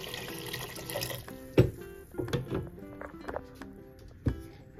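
Water poured from a container into a cooking pot of vegetables for shrimp broth, a steady liquid splash with a few sharp clanks and knocks of utensils against the pot, close and moderate in level.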